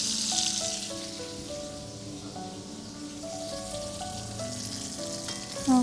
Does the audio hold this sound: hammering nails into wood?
no